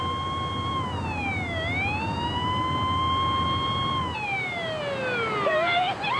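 An ambulance siren wails loud and close, its tone sweeping smoothly up and down in long rising and falling cycles. Near the end it turns into quicker yelps.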